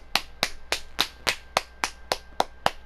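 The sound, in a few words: golf clap from the crowd in the Madden NFL 17 video game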